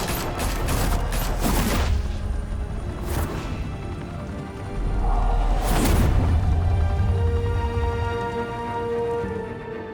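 Gunfire in Batman: The Telltale Series, with rapid bursts of shots early on, then separate heavy blasts and crashes, loud and close over a rumbling background.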